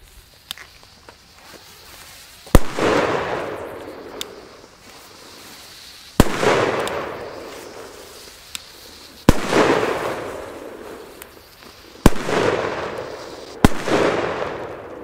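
Dumbum 2G firecrackers, Polish 2-gram bangers, go off as a series of loud, close explosions, each a sharp crack followed by a rumbling decay. They come every few seconds, with small ticks and pops heard in between.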